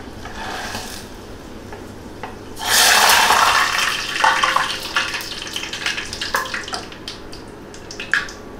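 Fenugreek seeds and bay leaves drop into hot oil for a Khandeshi raw mango pickle, setting off a sudden loud sizzle that crackles on and gradually settles into lighter spitting and popping.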